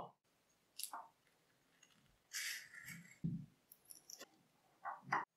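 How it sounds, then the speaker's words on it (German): Scissors snip through clear plastic book-cover foil for covering a school book, giving quiet, close, scattered clicks and crinkly cutting bursts separated by short pauses. "Danach alles mit der Schere ausschneiden"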